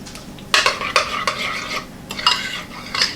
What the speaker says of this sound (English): just give that a stir